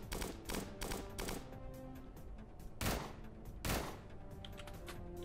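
A bouncing-shot gun in Starbound fires sharp, punchy shots in irregular pairs and singles, close and distinct, with quieter clicks between them.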